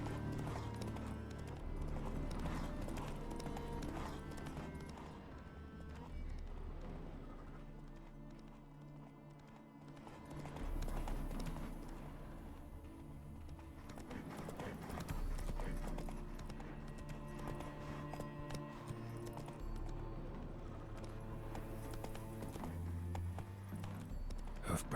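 Geralt's horse Roach in The Witcher 3 game, hooves clip-clopping steadily with an occasional whinny, heard under game music and ambience.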